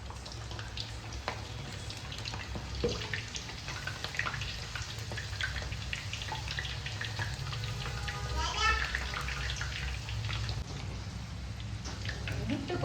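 Pieces of rolled dough fry in hot oil, bubbling and crackling in a continuous rain-like hiss under people talking nearby.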